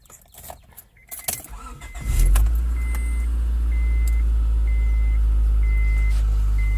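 A 1996 Honda Accord engine cranks briefly and catches after some handling noise, then settles into a loud, steady idle, with a faint intermittent beeping over the engine.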